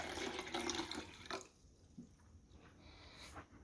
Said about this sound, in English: if you pour the water in here